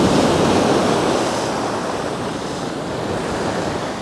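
Surf rolls steadily onto Thomas Beach at Uluwatu, Bali, a loud continuous wash of breaking waves with some wind buffeting the microphone and no voices.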